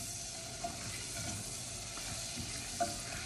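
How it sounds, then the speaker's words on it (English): About a quarter pound of smoked country sausage sautés in a pot, a steady, fairly quiet sizzle with a couple of faint clicks. "I'm using smoked country sausage, about 1/4 pound of it. I'm gonna throw it in first and just let it saute for a second"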